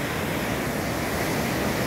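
Swollen stream in Águas de Lindóia rushing hard after a day of rain, a steady, loud, close roar of water without pause.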